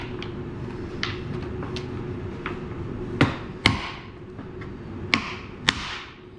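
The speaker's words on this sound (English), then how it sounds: "Thigh bones broken" Fowl thigh bones are snapped and broken during poultry prep, giving several sharp, close cracks and thuds spaced irregularly over a steady kitchen hum.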